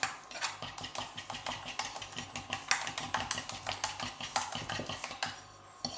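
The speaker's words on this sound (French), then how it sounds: "Donc on mélange bien" A spoon rapidly mixes the Miam O Fruit base in a bowl, making quick, rhythmic clicking and scraping taps against the sides, close and steady, with no talking.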